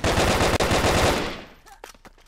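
Rapid automatic gunfire from heavy guns in the online shooter Brick Force: loud, dense continuous bursts for over a second, then fading into a few short, scattered shots and clicks.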